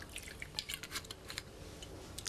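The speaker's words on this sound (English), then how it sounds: "It's by pouring soda water or sparkling water over it." Soda water poured over ice cubes stuck together, giving a steady fizzing crackle with scattered clicks and drips, close and fairly quiet, no voices.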